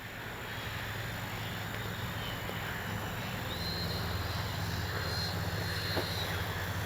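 A Freewing 64mm BAC electric RC jet on a 4S battery flies in a crosswind, giving a steady airy ducted-fan whine with a faint rising pass partway through, fairly distant and unbroken.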